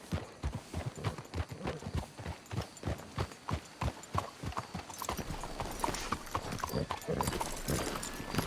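Horse hooves clip-clop steadily in Red Dead Redemption 2, a continuous rhythmic series of close hoof strikes on hard ground, with faint ambient noise underneath.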